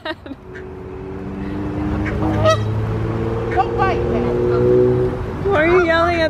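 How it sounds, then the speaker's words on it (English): Geese honking loudly and repeatedly at close range, with a hum of a nearby engine underneath and people talking and shouting among the calls. "the geese."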